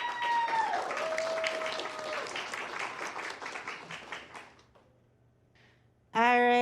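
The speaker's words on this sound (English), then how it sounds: "Big round of applause" Dense crowd applause at a cosplay competition, loud at first then thinning and fading over several seconds before a sudden loud tone cuts in.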